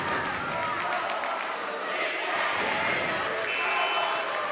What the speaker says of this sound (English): And the crowd starting to make some noise.